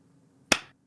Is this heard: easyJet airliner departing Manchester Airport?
no